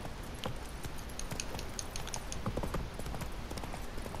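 A horse gallops in The Witcher 3 video game, its rapid hoofbeats drumming steadily and moderately loud over a busy ambient game soundscape.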